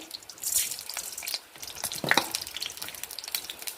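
Mustard seeds and chana dal fry in hot virgin coconut oil, crackling and spattering steadily with sharp pops, close and fairly loud, with no voices.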